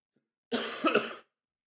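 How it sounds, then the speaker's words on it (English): A single short, close cough lasting under a second, with a brief throaty double push in the middle, set against silence. "Excuse my cough too."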